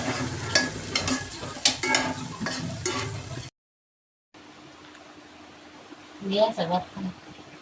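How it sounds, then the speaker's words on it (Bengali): Shrimp brains (head fat) fry in a home kitchen pan for a Sehri meal, with a steady sizzle and scraping stirs under a person's talk. The sound cuts out briefly, then resumes more faintly with a short burst of clatter. "আমার ঘিলুটা কিন্তু এখন ভাজা ভাজা হয়ে গেছে"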